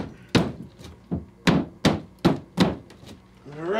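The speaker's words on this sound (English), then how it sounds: "Punch another couple holes in the corner." Hammer blows punch holes in a wall corner: seven sharp, heavy knocks land at uneven intervals, close and loud, with brief pauses between strikes and a scraping noise at the end.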